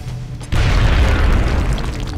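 A grenade explodes in the strategy video game XCOM Enemy Unknown: a quiet moment breaks into a single heavy, close boom that rumbles on loudly before slowly easing off.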